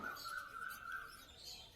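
Faint, thin golden finch chirps and twittering at the Garia bird market in a brief stretch, with a steady high call over a quiet background.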